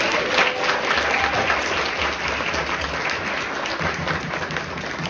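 Audience applause at a jazz concert, steady dense clapping from a room of listeners, loud and sustained throughout with no talk over it.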